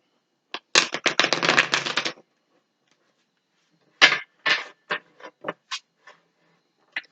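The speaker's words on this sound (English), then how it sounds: "let's give the deck a couple shuffles" Tarot cards riffle in a quick, crisp burst, then after a pause come several separate shuffling flicks and taps, close and dry.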